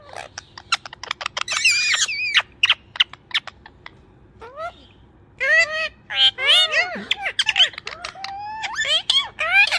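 A ring-necked parakeet squawks and chatters with sharp, loud calls and rapid bursts, interspersed with brief pauses, up close and without background talk.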